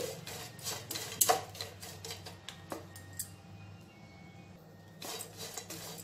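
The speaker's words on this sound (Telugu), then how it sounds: "ఇలా కలుపుకుంటూ వేయించుకోవాలి." Dried fish frying in a pan while being stirred, giving a steady crackle with repeated scraping clinks of a utensil against the pan, close and moderately loud.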